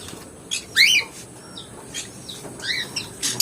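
Caged pet birds chirping indoors: several short, high, bright tweets and whistled calls in scattered bursts, fairly close, over a steady low background noise.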